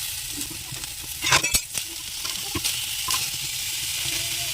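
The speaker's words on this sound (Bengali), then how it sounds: "আদাটা হালকা ভেজে নেবো" Ginger frying lightly in a pan, a steady close sizzle with a few sharp spatula scrapes and stirring clatters cutting through.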